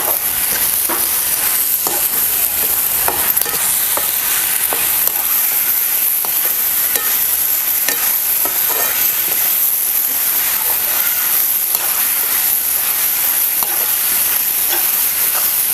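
A spoon stirs salt and finely chopped coriander into a soybean and yogurt dish in a hot pan, giving a constant loud sizzle with rhythmic scraping strokes and no talking.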